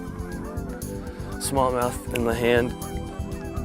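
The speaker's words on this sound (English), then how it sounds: "Geese flying overhead." Geese honk loudly overhead above a lake in Utah during a smallmouth bass fishing trip, a string of nasal calls that swell and fade, with people talking quietly underneath.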